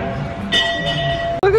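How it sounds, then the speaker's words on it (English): A pull bell at a schoolhouse in the Storyland amusement park in New Hampshire clangs with a bright ringing tone, close and loud, its strikes sustained and then cut off, with voices nearby. "having way too much fun with his bell that you can pull"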